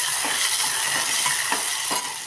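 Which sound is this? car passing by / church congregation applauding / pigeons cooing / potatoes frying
potatoes frying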